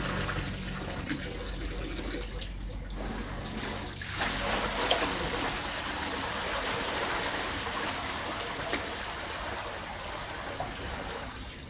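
Water pours steadily and continuously over wheat grains being washed in a vessel, a full, close splashing rush that carries on without a break and has no speech over it.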